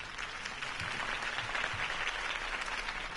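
A crowd applauds at a campaign rally for Harvey Dent in an animated Batman series, a continuous, fairly distant roar of clapping and cheering that holds steady for a few seconds.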